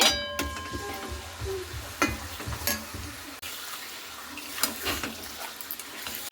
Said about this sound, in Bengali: মাটনগুলোকে একটু ভালো করে নাড়াচাড়া করে নিলাম